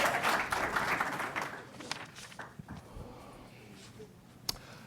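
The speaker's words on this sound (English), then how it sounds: "Let's give them a round of applause." Sustained round of applause from a council meeting audience in Chino, loud at first then thinning into scattered claps and a few sharp single claps near the end.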